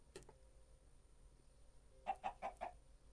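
Minecraft chicken with a retextured rustic look clucks in a quick run of four short, clear clucks near the end, after a faint earlier cluck, over a low steady hum.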